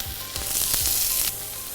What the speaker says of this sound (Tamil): இந்த சூடான எண்ணெயில் நம்ம நறுக்கி வச்சுருக்க எல்லா காயும் சேர்த்துடலாம்